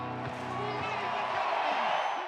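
A huge stadium crowd of about 90,000 Nebraska Huskers football fans roars and cheers continuously, a dense wash of voices with a narrator talking over it.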